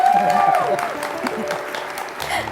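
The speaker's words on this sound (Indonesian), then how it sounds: "Mana tepuk tangannya, suaranya," Studio audience applause and cheering on an Indonesian talk show, a loud, busy crowd roar with voices shouting through it and some tonal sounds mixed in.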